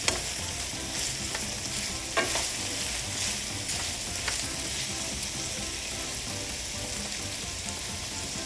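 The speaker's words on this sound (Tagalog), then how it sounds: "Igigisa lang natin ito ng mga 2 hanggang 3 minuto pa" Hotdog slices sautéing in a pan for Filipino-style spaghetti, a steady close sizzle with occasional stirring scrapes and clicks, no voices.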